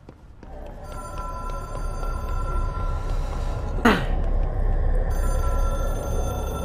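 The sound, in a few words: phone ringing in the video game Control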